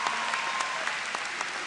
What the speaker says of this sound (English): If we can just give them a round of applause.